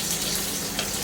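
Onion frying in a pot for Filipino chicken tinola, a loud, dense, steady sizzle and crackle filling the short moment with no voices.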